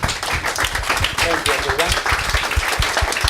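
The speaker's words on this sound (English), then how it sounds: "if you could all, with me, applaud our Q&A panellists" An audience applauds Q&A panellists at the close of a talk session, steady clapping running throughout at close range while a voice speaks over it.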